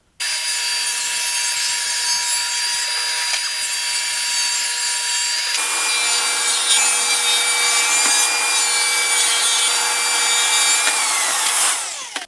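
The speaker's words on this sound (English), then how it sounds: "Now I'm going to cut 2 pieces, just a little less than 2 inches" A saw cutting through wooden board pieces, a loud, continuous rasping stroke that carries on for about twelve seconds, its tone shifting midway before stopping abruptly.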